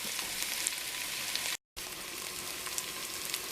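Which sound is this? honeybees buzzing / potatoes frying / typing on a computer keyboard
potatoes frying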